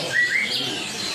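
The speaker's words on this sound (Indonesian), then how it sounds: "Ada burung cungkok impor ya." A bright, short chirp from an imported cungkok songbird with a couple of quick high notes, close and clear, over faint background noise, at a bird market.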